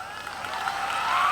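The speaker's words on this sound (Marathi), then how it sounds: "परत जिथे- एकदा टाळ्या" Applause from an audience at a school annual sports day, a brief dense wash of clapping that swells steadily in loudness, with a faint voice heard beneath.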